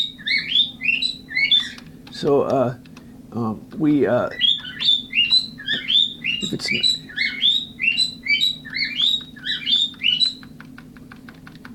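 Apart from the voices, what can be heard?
bird chirping in the room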